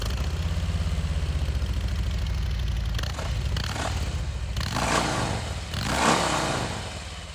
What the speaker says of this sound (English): let's go ahead and start it up, give it a few revs